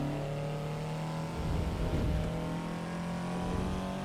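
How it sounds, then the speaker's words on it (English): Tuned Toyota AE86 four-cylinder engine in a racing game, revving with a steady buzzing drone that swells and eases slightly, sustained and fairly loud with no voices. "Still sounds decent for a 4-cylinder, right?"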